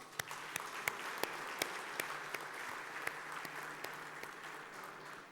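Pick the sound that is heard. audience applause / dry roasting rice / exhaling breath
audience applause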